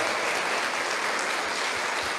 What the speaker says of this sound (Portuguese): Aplauda com fervor.